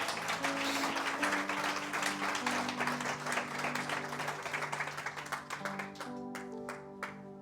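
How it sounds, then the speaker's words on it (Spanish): A church congregation claps loudly and continuously, the dense applause slowly thinning toward the end over sustained music in the background. "Dale el aplauso fuerte al Señor."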